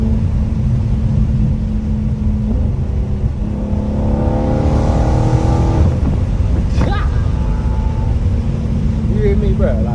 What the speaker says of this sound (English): I hope y'all hear this car, man